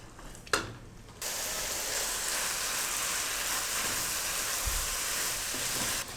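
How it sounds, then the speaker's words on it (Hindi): Carrots sauté with chicken in a hot pan, a steady, loud sizzle that starts abruptly after a brief clatter and continues evenly without talk. "गाजर को चिकन के साथ हमने 4 से 5 मिनट तक भून लिया है"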